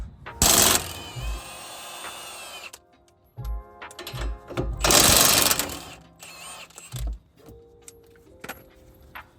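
A wrench works on strut bolts of a Ford Mustang, producing bursts of loud ratcheting and metallic clanks separated by quieter pauses, close by, with a few sharp taps of metal tools.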